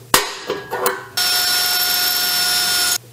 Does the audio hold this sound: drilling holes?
yes